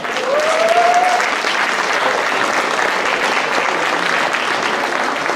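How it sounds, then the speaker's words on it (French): Steady, full applause from an audience at a gastronomy fair in Le Mée-sur-Seine, clapping for a group of children, continuous and loud throughout with a brief whistle near the start. "je vous demande, mesdames et messieurs, d'applaudir tous ces enfants"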